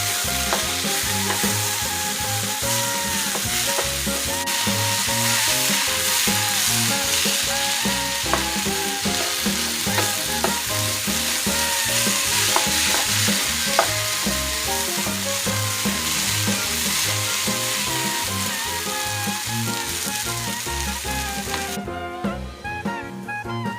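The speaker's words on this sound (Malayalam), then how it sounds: "ചെറുപയർ ഉടയാതെ ഇളക്കാം" Green gram (mung bean) stir-fry is stirred in a pan, a steady close sizzle of frying with frequent scraping spoon clicks and stirring taps running continuously for over twenty seconds, no talking.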